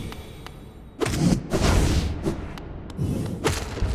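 Heavy thuds and impacts from a Hollow Knight boss fight, with bursts of crashing noise and no background music, loud and close.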